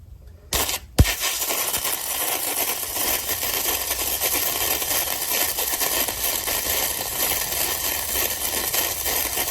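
A compact gasless flux-core wire welder running a bead on heavy metal, starting with a couple of sharp pops and then settling into a loud, steady crackling hiss that holds to the end.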